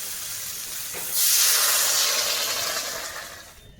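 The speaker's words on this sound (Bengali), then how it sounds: "এবার জল দিয়ে দেবো।" Water poured into a hot pan of frying greens with turmeric sets off a loud, close steam hiss that swells suddenly and then slowly fades away.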